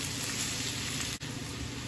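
Onions frying in a pan for tofu bhurji give a steady, loud, close sizzle and crackle that continues throughout, with a brief dip near the end.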